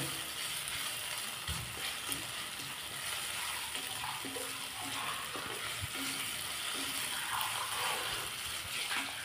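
A spoonful of garlic ginger paste is sautéed in hot oil in a pan, giving a continuous close sizzle and crackle with occasional stirring knocks, and no voice.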